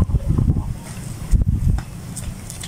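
Strong wind gusts blowing outdoors at midday, with dense low rumbling buffeting and rustling across the whole stretch and a louder gust in the middle.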